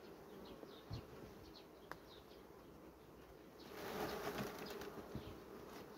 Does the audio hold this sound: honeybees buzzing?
yes